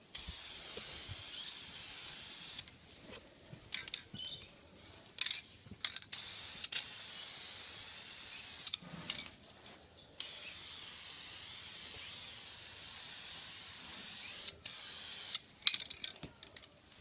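An aerosol spray can hisses in bursts while a chrome coating goes onto the front bumper vents of a 1999 Subaru WRX, long continuous sprays broken by short pauses, close and fairly loud.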